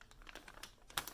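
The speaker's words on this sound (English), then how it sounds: "I'm gonna open this bag and untwist that" Plastic bag being opened and crinkled by hand while untwisting it, with a run of soft, close crackling rustles and one sharper crinkle near the end.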